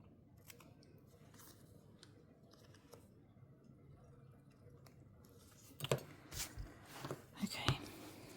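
Scissors snip through paper for an art journal page, soft quiet cuts near the mic, with a louder burst of several crisp snips and rustles toward the end.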